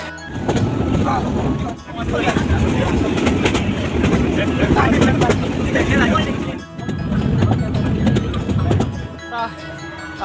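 Rumbling train ride with continuous rolling rattle and clatter of the carriage, with muffled voices mixed in the background.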